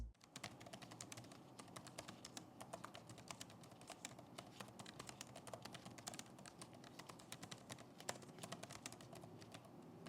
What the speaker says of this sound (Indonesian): berikut ini adalah contoh suara feedback dari keyboard HP 14S FQ1037AU